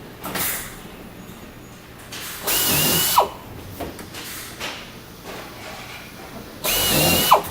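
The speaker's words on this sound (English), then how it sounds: "While holding that roof down tight into position, drill the holes in the jamb and through the roof." A power drill bores holes through a door jamb and the roof of a static fleet unit during assembly, whirring in three separate loud bursts with quiet handling noises between them.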